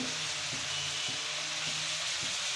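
Onions, fenugreek seeds and curry leaves fry in oil for an onion chutney with a continuous close hiss and sizzle, broken by soft, regular stirring scrapes about every half second.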